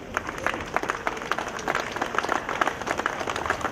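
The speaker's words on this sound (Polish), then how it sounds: "brawa dla Pani Skarbnik" Municipal audience applauding the city treasurer at a public event in Ostrowiec, a fairly soft, steady patter of many hands clapping with faint crowd noise, heard at a moderate distance.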